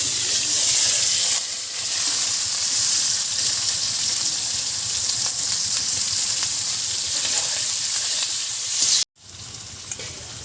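Chopped onion and green chilli fry in a pan with bay leaf for a thin country-chicken curry. A loud, steady, close sizzle runs throughout with stirring, cut by a brief drop near the end.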